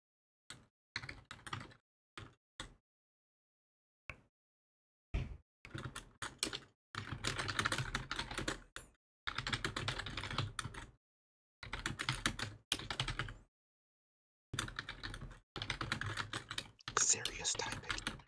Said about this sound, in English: Serious typing.